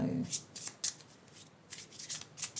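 Tarot cards shuffled and drawn by hand: soft, brisk riffling and sliding bursts scattered through the moment, fairly close and quiet, with a low voice murmuring briefly at the start.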